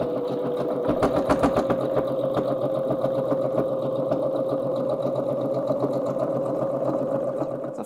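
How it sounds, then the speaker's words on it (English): A sewing machine runs continuously at a steady, rapid stitching pace, stitching around a vintage clutch bag. Its close, even mechanical whir and needle chatter carry on alone with no talking. "I'm going to stitch all the way around the outside"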